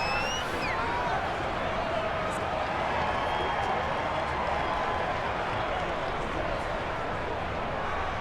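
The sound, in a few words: crowd applause for the defense in the video game Madden 22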